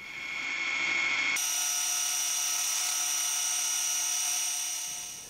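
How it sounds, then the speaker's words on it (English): A milling machine cuts metal with an end mill, a steady high whine of the spindle and cutter that runs continuously for several seconds, heard close and alone, with the pace sped up. "I rough mill it and then go back to a finishing end mill"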